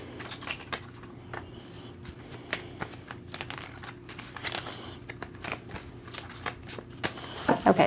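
Doreen Virtue tarot cards being shuffled by hand, a quiet, steady run of soft riffling and flicking taps with no talking.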